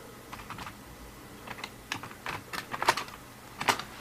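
Quick keystrokes on a computer keyboard as a git command is typed, a soft, irregular patter of individual clicks close by in a quiet room.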